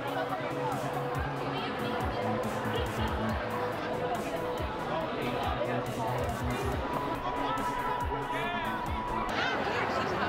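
A big protest crowd in city streets makes a continuous roar of massed voices, with chatter and rhythmic calls blending into a dense, steady hubbub that never drops away.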